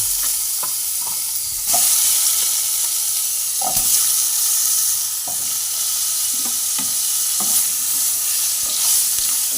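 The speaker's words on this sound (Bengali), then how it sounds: "এই তেলের মধ্যেই আমি কুমড়োটাও আমি এইভাবেই ভেজে তুলে নেব" Pumpkin pieces frying in hot oil, cooked for a pumpkin, potato and prawn curry, make a loud continuous close sizzle with scattered pops and occasional stirring scrapes, with no talk.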